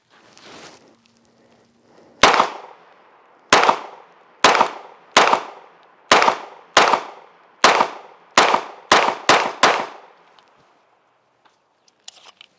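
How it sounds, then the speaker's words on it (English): A Canik TP9SA pistol fires a string of about eleven sharp, loud gunshots outdoors, spaced unevenly at first and then coming quicker toward the end, followed by quiet. "I really like this trigger, man. Let's give some more shots."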